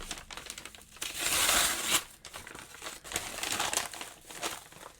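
Paper packaging crumpled and crinkled by hand for recycling, a burst of dense rustling that swells in the middle and then comes back in softer scrunches, close by with no talk.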